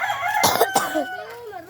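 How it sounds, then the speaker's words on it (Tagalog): A rooster crows nearby in a short, strained burst with a rising and falling call, loud and close against faint outdoor background. "Ang ganda nga manok."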